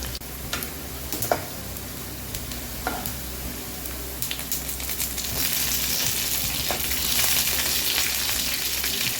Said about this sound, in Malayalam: മഞ്ഞൾ പൊടി, മുളക് പൊടി എല്ലാം ഇട്ട് അതുപോലെ വറുത്തിട്ട്